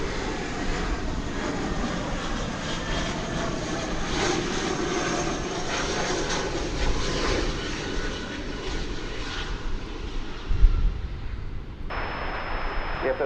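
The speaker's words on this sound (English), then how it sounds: "we will have a Delta Airbus A321 arriving from its home base of Atlanta on runway DFW" A Delta Airbus A321 jet landing at DFW Airport, a steady broad engine roar throughout, loud and fairly close, with a brief radio-like tone near the end.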